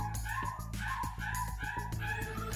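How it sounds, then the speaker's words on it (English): A dog howls and whimpers in repeated wavering cries, fairly close, over a busy background of other sound. "That's my dog howling right now."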